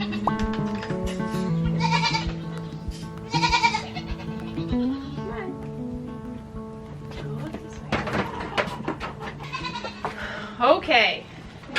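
Several goats bleat in short, wavering calls scattered across the scene, some nearer and louder, with quieter gaps and low background noise between them.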